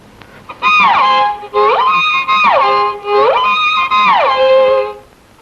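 Bowed violin notes in three long sweeping phrases, each sliding between pitches, loud and close with brief breaks between strokes.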